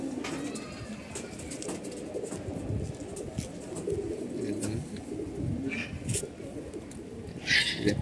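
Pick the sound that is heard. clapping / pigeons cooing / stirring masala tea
pigeons cooing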